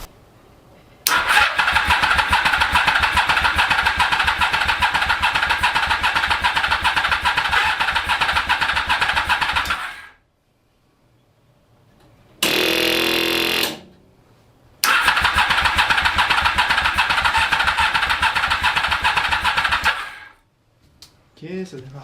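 A home-built single-seater car engine cranks repeatedly without catching, with a long steady burst of starter churning, a short pause, a brief crank, then another long attempt that dies away.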